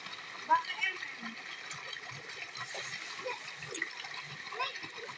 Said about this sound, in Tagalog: Galing bundok ang tubig.